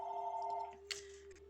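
Telephone bell ringing with a sustained electronic tone, then a short sharp burst of noise as the ring cuts off, fairly faint with no talking.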